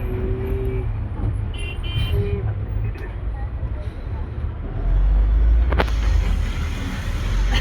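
Busy road traffic on the way to Mahad, with a continuous rumble of vehicles and several short horn toots, and a louder surge of engine noise toward the end.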